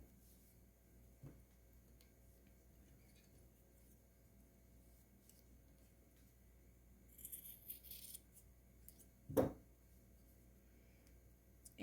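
Scissors snip once through macrame cord on a handmade keychain: a single faint, crisp cut in a very quiet room, with a smaller tick a few seconds earlier.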